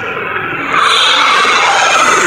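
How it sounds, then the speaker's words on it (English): A harsh, buzzy processed tone that jumps abruptly in pitch and texture partway through, sustained and loud like a digital glitch effect. "how to make that glitch sound"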